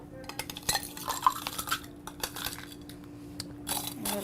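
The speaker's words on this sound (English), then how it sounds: "We're going to fill our glass with the crushed ice." Crushed ice is spooned into a cocktail glass for a swizzle, giving a run of soft crunching clinks and scrapes at close range, fairly quiet and steady with no talking.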